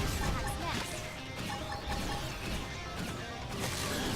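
A monster's head is smashed in battle in Xenoblade X, heard as a dense, continuous wash of crashing and whacking combat effects over game music, with talk mixed in.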